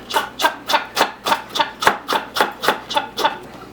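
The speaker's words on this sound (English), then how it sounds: "I have some carrots here that I'm chopping." Carrots being chopped with a knife on a cutting board in a home kitchen, about twelve steady, evenly spaced cuts in a regular rhythm, close and clear with no talk over them.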